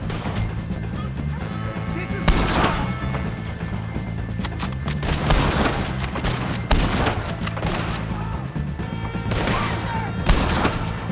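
Shots ring out in a Red Dead Redemption 2 fight against O'Driscoll gang members, with several loud bursts over a constant bed of game ambience, hoofbeats and scattered crashes, plus faint voices.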